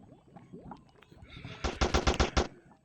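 Gunfire in the Real Gangster Crime video game comes as a sharp burst of about six rapid, loud shots. Quieter rustling game sounds come before the burst.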